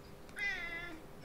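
A cat gives a single drawn-out meow, clear and nearby but fairly soft, against a quiet room background.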